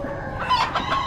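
Buff-laced Polish chickens cluck in short, close calls at an Amish animal auction, with a busy barn murmur underneath.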